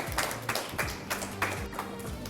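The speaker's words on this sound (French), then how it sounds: "Merci, maximum d'applaudissements pour eux" Audience at a school quiz show semi-final gives a short burst of applause, a few distinct clusters of clapping over about two seconds, moderately loud with a faint voice underneath.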